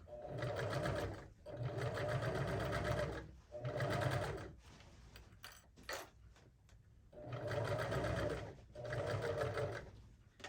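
A sewing machine stitches fabric for a bag in several steady bursts of a few seconds each, with short pauses and small handling clicks between runs, close and clear.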